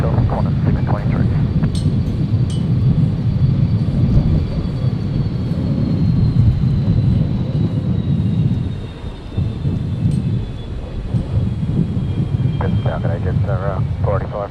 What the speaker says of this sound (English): Qantas 623, runway 19 left, cleared for takeoff.